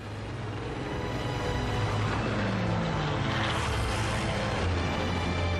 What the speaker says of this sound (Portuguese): 360 aviões de guerra japoneses baixam em Pearl Harbor.